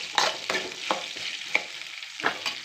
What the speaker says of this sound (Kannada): ಚೆನ್ನಾಗಿ ಈರುಳ್ಳಿನ ಸ್ವಲ್ಪ ಕಲರ್ ಸಿಗೋ ಥರ ಗೋಲ್ಡನ್ ಕಲರ್ ಬರೋ ತನಕ ಫ್ರೈ ಮಾಡಿ.